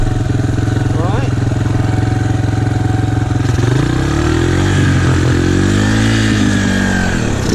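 A motorcycle engine runs loud and close on a dirt bank while riding near Burra, South Australia, idling with clatter and then revving, pitch rising and falling over several seconds.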